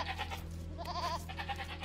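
Sheep bleat in the Age of Empires 2 video game, a couple of wavering animal calls over a steady low game ambience, with no talk over them.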